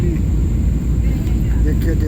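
An airplane engine drones just after takeoff, heard from inside the cabin as a steady, loud low rumble filling the whole span, with a person talking over it.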